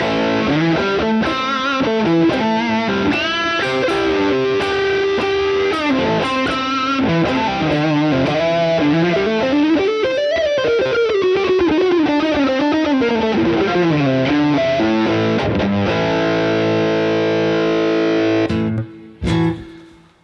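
An electric guitar runs through a Boss MS-3 dirty lead patch, playing loud, sustained distorted lead lines with bends and held notes, alone and continuous until a sudden stop near the end.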